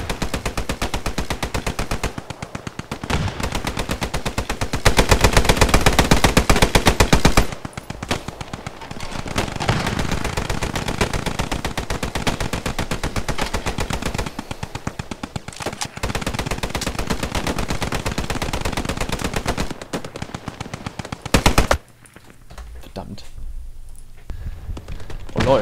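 Long sustained bursts of Vickers machine gun fire in the Post Scriptum video game during a defense of Driel, loud and near, rattling almost continuously with brief pauses before stopping near the end.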